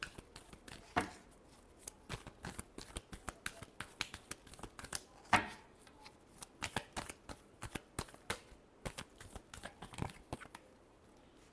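Tarot cards being shuffled by hand in a Libra reading, a long run of crisp, rapid riffles and snaps, close and fairly quiet, with no talking.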